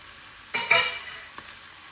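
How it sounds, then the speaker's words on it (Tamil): Chillies and cut cabbage sautéed in a pan for Sri Lankan kothu roti: a quiet background hiss swells into one short burst of sizzling and stirring, followed by a single light scrape. "மிளகாய் வதங்கிட்டு அதோட வெட்டி வச்சிருக்கிற கோவா சேர்ப்போம்."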